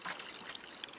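Water poured onto a potted plant in the video game Botany Manor, a short soft trickling splash close up, with no speech.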